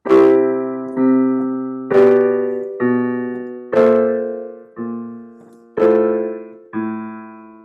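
Eight sustained piano chords struck at a steady pace, each ringing and decaying before the next, with the lowest note stepping downward chromatically.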